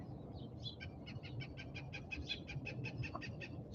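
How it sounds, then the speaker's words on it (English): A hawk repeats a rapid run of sharp, high calls in an even rhythm, somewhat distant and fairly faint over a low outdoor rumble. "you can hear the hawk behind me"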